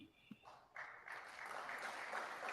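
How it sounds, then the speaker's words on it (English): Audience applause at a political speech on regional international law, a broad, steady wash of clapping that swells partway in and holds loud to the end, with no talk over it. "They don't even know what they're clapping for."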